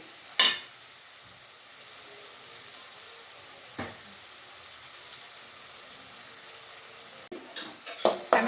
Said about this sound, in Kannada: ಟೊಮೆಟೊ ಸ್ಮೆಲ್ ಹೋಗೋ ತನಕ ಚೆನ್ನಾಗಿ ಒಂದು ಸ್ವಲ್ಪ ಫ್ರೈ ಆಗಲಿ ಟೊಮೆಟೊನು ಎಣ್ಣೆನಲ್ಲಿ